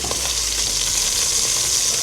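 Pork rind sizzles in a pan while browning for boeuf bourguignon, a dense, close crackling hiss that stays steady and unbroken, with no talk over it.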